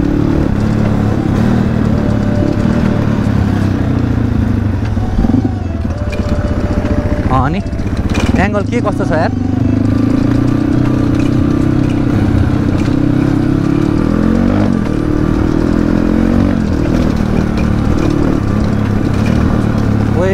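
A dirt bike motorcycle, first ride in months after a new motor was fitted, drones steadily near at hand on a dirt track, with a brief revving burst in the middle and someone talking over it.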